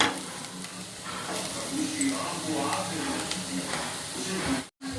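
Vegetable liver fry with thotakura greens sizzling in a pan on the stove, a steady close frying hiss with occasional stirring, briefly cut off near the end.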